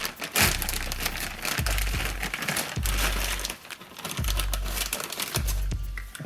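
Crinkling and crackling plastic packaging as sway bar links are unboxed, with repeated close bursts of rustling and handling and dull thuds in between.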